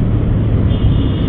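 A motorcycle pulls away on a road ride, its engine a loud, steady roar over rushing wind for a brief moment.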